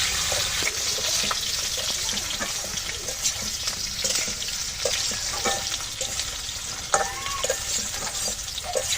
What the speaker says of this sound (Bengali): সুন্দর করে আমি ভেজে নিলাম।